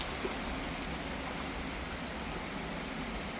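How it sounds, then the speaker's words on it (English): Heavy rain pours down outside a house, a dense, constant hiss of drops hitting surfaces, loud and unbroken throughout with no voices. "it is pouring rain today here at my house"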